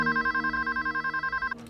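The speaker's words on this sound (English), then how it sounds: "the phones began ringing off the hook in the police station at Yorktown" Telephones ring steadily at a police station in Yorktown, a loud electronic warble pulsing in quick even bursts for well over a second before cutting off.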